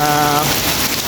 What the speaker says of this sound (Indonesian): Nah, ini hujannya masih terus ya